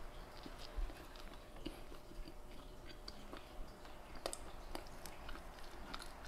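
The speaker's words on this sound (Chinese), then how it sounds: "那我们试吃一口看看吧" Close, steady chewing of a steamed bun made with pineapple, apparently mango-flavored, with soft crunchy bites and small clicks running throughout, no talking.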